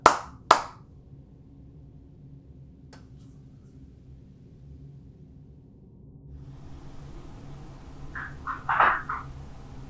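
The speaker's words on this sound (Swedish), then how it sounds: "Prova klappa för oss." Two sharp hand claps sound near the start of a quiet room during a ghost hunt, followed by long near-silence and a faint cluster of knocks or claps near the end.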